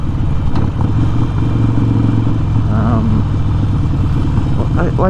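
A big Harley-Davidson Forty-Eight 1200 motorcycle engine rumbles steadily at a deep idle, loud and close, with a voice briefly talking over it.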